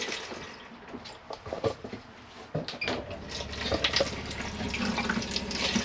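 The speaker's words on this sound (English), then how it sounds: "Here you have your hand basin tap working" Running water pours steadily from a motorhome hand basin tap in an Auto Trail Tribute F70, a close, continuous splashing hiss with small clinks and knocks mixed in.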